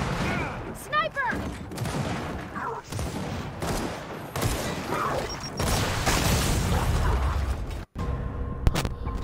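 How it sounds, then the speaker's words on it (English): Gunfire in the shooter Gears of War 4 crackles in rapid bursts and booms, with mechanical clanks and a brief whistle, while players talk over the busy, continuous battle noise. "So many shots."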